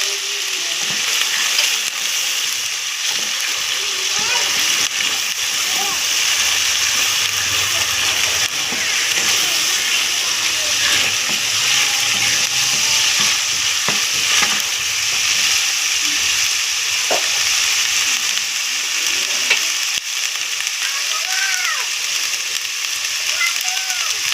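Onion paste and ginger-garlic paste frying in hot oil for a pointed gourd korma, a continuous bright sizzle with occasional soft scraping and spatter, steady and close throughout.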